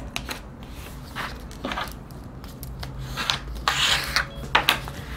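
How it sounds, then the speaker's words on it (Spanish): Paper folded along pre-marked center and side creases for an origami wallet: repeated crisp rustles and scraping creases in short bursts, close and fairly loud, with no voices. "lo que vamos a hacer es doblar por estas líneas que acabamos de marcar la línea central."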